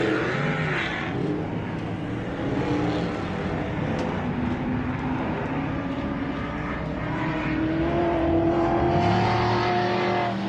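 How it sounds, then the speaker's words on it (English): An off-road race car at the MetalCloak Stampede roars over the start-finish line jump, its engine droning loudly with rising and falling revs throughout, heard from trackside amid outdoor race ambience. "Here comes Jimmy Jack, our number 2 car, over the MetalCloak start-finish line jump"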